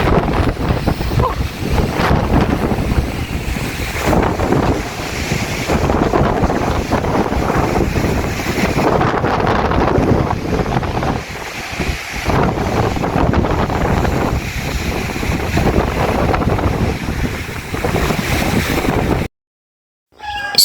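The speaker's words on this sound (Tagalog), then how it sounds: "Super hangin." Loud, gusty wind buffets the microphone continuously in Carasi, Piddig, Ilocos Norte, with a roaring rush and water churning underneath, then a brief cutout near the end.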